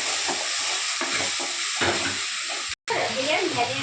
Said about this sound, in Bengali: একটু নেড়ে নিলাম।